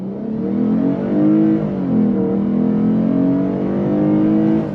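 A 2025 Lexus IS 350 F Sport rear-wheel-drive sedan with an 8-speed automatic pulls away from a stop under throttle, its engine note climbing in rising sweeps with brief dips at smooth upshifts, heard from inside the cabin with no talking.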